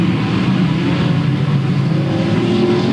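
Race cars in an outlaw figure 8 race at Louisville Motor Speedway, 1997, roar continuously with loud, dense engine drone and rising revs, a sustained wall of motor noise from the track.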